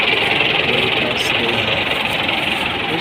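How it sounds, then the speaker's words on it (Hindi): A tractor engine labours hard, straining to drag a harvester sunk deep in swampy ground, producing a loud, continuous knocking drone that stays steady throughout with a slight rattling vibration. "आप देख रहे हैं कि कैसे जो और भी ट्रैक्टर आ रहे हैं इसको निकालने के लिए।"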